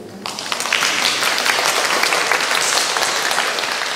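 An audience at a Taiwan university anniversary event breaks into applause, which swells quickly after a brief pause and holds as a loud, dense, sustained roar of clapping.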